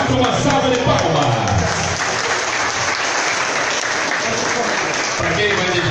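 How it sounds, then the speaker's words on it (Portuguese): A festival song-contest audience applauds a singer with loud, dense clapping that stays steady for several seconds, with voices mixed in. "uma salva de palmas"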